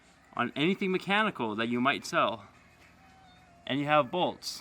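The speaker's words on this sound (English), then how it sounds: "Sorry for my cat intruding here." A house cat meows several times in a workshop where a 2005 Toyota Tacoma SR5 is being worked on, short near calls breaking in while someone talks.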